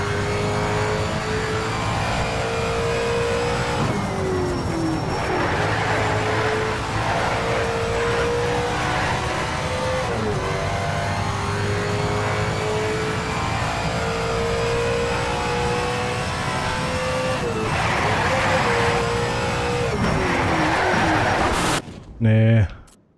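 Race car engines scream and rev at the start of a Need for Speed: Shift race, a loud, sustained whine rising through repeated gear shifts for over twenty seconds, cut off abruptly near the end.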